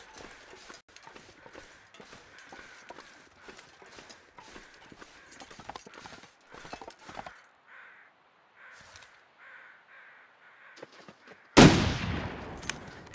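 A rifle shot in the survival video game The Long Dark: after a stretch of soft crunching footsteps and faint ambience, a single loud, sharp report near the end rings out and decays slowly.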